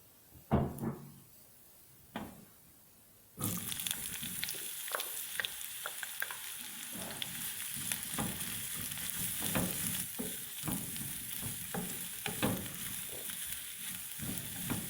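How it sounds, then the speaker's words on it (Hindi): Onion roasting in a tablespoon of oil in a pan on a stove, for Hyderabadi mutton paya: after a few quiet knocks, a steady close sizzle starts and runs throughout, punctuated by stirring scrapes and taps. "सबसे पहले हम चूल्हे पर एक पैन चढ़ा लेंगे और इसमें 1 टेबल स्पून ऑयल डालकर प्याज को थोड़ा सा रोस्ट कर लेंगे।"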